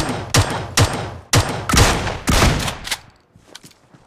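Gunfire in a shooter video game, with bots in the match: five or six loud, sharp shots fire in an uneven run over about three seconds, then fainter distant shots trail off.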